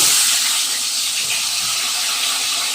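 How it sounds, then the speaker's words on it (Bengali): Rohu fish heads coated in salt and turmeric sizzle in two spoons of hot oil, a steady, dense frying hiss that stays loud and continuous without a break. "এরপর আমি এই নুন হলুদ মেখে রাখা মাছের মাথাগুলো তেলে দিয়ে দিচ্ছি।"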